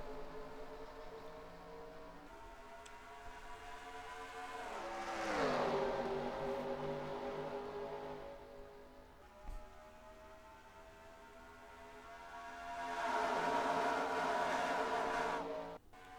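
Race cars in NASCAR Racing 2003 at Las Vegas roar past in waves, engines swelling loud as they pass close, then thinning into a steady drone before the next pack arrives.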